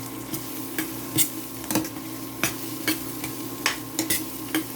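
Chopped garlic sizzles steadily as it fries in a hot pan for shrimp, a constant crackling hiss broken by sharp clinks and scrapes of a utensil stirring at irregular intervals.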